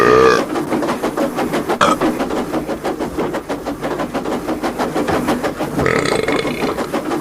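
A passenger's burp rings out inside a moving train carriage on a railway, heard over a steady rumble of rails and wheels, with a couple of short bursts standing out.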